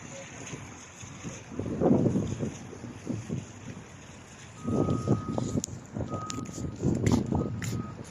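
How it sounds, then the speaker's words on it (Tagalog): Strong waves wash ashore in repeated surges on a windy day at Corniche Beach in Abu Dhabi, with wind buffeting the microphone and a few faint beeps in the background. "The wave is strong because it's windy today."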